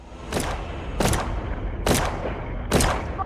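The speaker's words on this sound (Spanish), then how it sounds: "Vuelve a haber disparos." Four loud gunshots ring out at roughly one-second intervals during a police confrontation with an armed suspect, each a sharp crack with a booming tail over a rumbling background.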